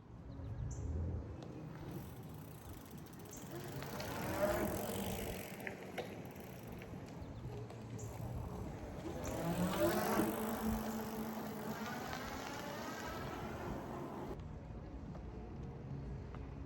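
A HOVSCO HovCart family e-bike rolls along outdoors, with steady road and wind noise, faint mechanical ratcheting and birds in the background, swelling twice as it passes.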